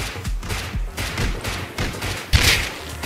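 Gunshots in the survival game Rust come as a cluster of quick thumping reports, with a sharper, louder shot near the end over a busy background.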